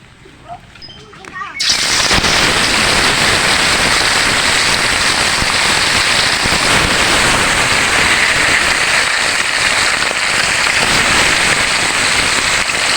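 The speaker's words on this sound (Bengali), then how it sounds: "মাছটা এভাবে ডুবো তেলে ভাজে লইতে হইবে।" Fresh pond tilapia coated in ground spices drops into hot soybean oil for deep-frying, setting off a sudden loud, steady sizzle that keeps crackling after a brief quiet moment with a faint voice.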